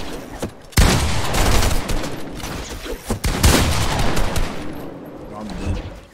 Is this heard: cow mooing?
no